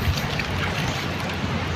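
Steady, strong wind roaring and buffeting the microphone on a wide seashore tidal flat, a constant rushing noise with no voices.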